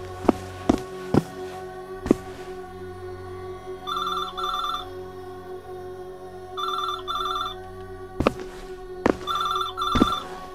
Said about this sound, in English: If I don't pick up, it'll keep on ringing.